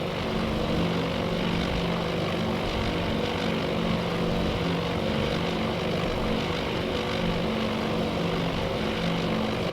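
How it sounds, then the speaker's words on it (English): Propeller engines of B-17 bombers drone steadily and loudly throughout in a World War II naval air combat video game, a continuous dense roar with no talk. "Sweeney's B-17s are making their attacks."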